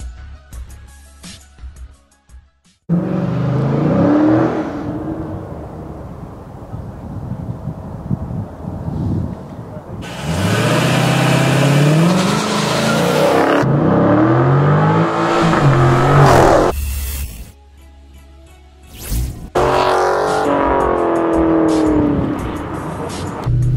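A Dodge Challenger SRT launches down a 40 yard dash, its engine revving loud and near in long roaring surges with brief pauses between bursts.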